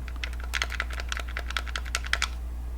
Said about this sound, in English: Joystick clicky, functional, looking great.